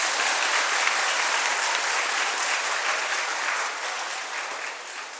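Sustained applause from an audience at a Dharma talk on the duties of teachers and students, a dense steady clatter of many hands that holds even throughout and eases slightly toward the end.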